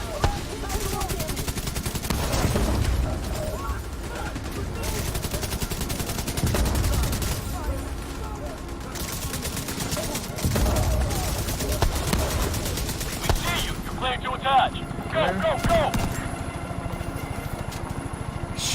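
Rapid bursts of video game gunfire, machine-gun rattles and shots coming in repeated waves over about nineteen seconds, with a voice talking now and then over the action.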